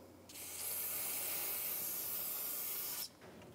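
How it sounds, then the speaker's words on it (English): Aerosol parts cleaner sprayed onto Toyota 4Runner front brake parts, a single steady hissing burst lasting close to three seconds, loud and near, with no talking. "Take some parts cleaner, we're gonna clean that up."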